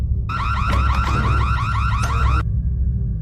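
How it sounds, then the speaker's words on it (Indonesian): A loud electronic alarm blares in a film scene, a rapid warbling tone for about two seconds over a low rumble, then cuts off abruptly. "Medina menyalakan alarm yang sangat keras terdengar di kuping sang psikopat"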